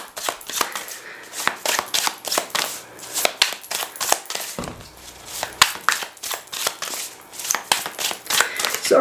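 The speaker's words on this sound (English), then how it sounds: "I'm gonna shuffle this a little more to make sure that it's really well shuffled together" A deck of cards is shuffled over and over, giving rapid riffling bursts and soft slaps at close range, with a brief pause midway and no talking.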